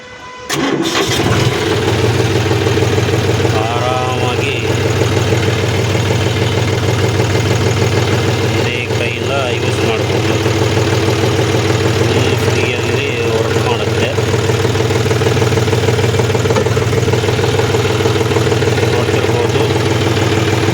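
A John Deere tractor engine starts up and then runs loudly and steadily for about twenty seconds, a close, constant low diesel drone, with a voice faintly speaking over it at moments.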